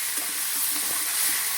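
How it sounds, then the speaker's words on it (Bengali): Bengali snail curry masala, made with guguli, fries in a pan with a dense, even sizzle, and soft scraping strokes from stirring rise faintly beneath it. "এটা ভালো করে কষিয়ে নিচ্ছি, ভালো করে নেড়ে নেড়ে কষিয়ে নেবো।"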